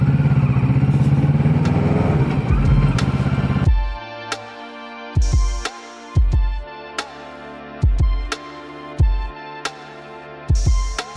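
Motorcycles, a Yamaha R125 and a Kawasaki Ninja ZX6R, ride past on a road in Germany: a loud, close engine roar for a few seconds that cuts off, followed by a string of regular, punchy thumps.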